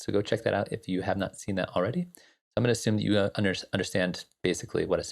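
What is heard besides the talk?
No everyday noise stands out behind the speech.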